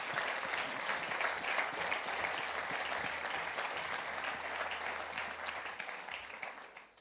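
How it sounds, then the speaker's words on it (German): Sustained applause from a church congregation during a livestreamed worship service, a dense wash of many hands clapping steadily for about seven seconds before tapering off at the end, with no talking. "Da können wir Gott mal einen großen Applaus geben."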